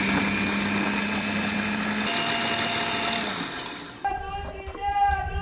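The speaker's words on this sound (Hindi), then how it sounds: "तो अब हम इनको ब्लेंडर में डाल के दरदरा सा पीस लेंगे।" An electric blender coarsely grinds roasted whole spices for mango pickle with a loud, steady motor whine that suddenly cuts off, leaving quieter sounds and a voice.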